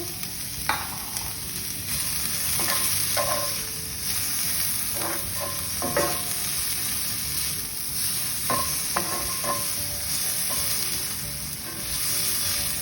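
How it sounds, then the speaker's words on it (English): Vegetables sautéing in a pan for rasta pasta sizzle steadily and close, with scattered clicks and scrapes of a utensil stirring them and no talking. "now it's time to saute our vegetables"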